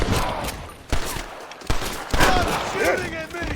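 Gunfire in a Western shootout from the video game Red Dead Redemption, several sharp shots cracking out at irregular intervals amid ongoing action noise and background music.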